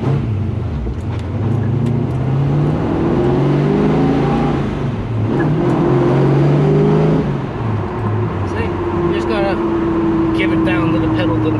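A Chevrolet Camaro engine heard from inside while driving, a loud continuous drone that rises and falls as it revs and shifts, with people talking over it.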